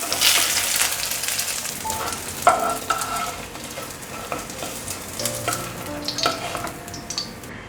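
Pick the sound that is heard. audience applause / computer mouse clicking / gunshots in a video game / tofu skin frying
tofu skin frying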